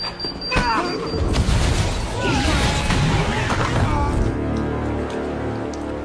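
A bomb explosion in a film scene: a sudden loud blast followed by several seconds of roaring, crashing debris and rumble, blended with other soundtrack noise before cutting to a quieter tail.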